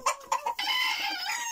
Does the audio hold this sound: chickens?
yes